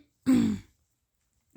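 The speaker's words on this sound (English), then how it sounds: "I had to keep clearing my throat" A person gives one firm, close throat clear, a short rough rasp lasting about half a second, followed by silence and the start of another sound at the very end.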